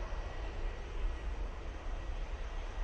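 A fixed-wing airliner on a positioning flight to London Heathrow taking off at Manchester Airport, a broad, steady distant engine roar with a low rumble, constant in level throughout.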